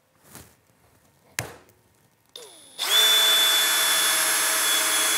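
Two sharp knocks are followed by a hammer drill spinning up to a loud, steady high-pitched whir as it drives a fastener.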